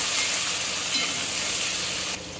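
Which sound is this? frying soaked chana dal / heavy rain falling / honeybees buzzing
frying soaked chana dal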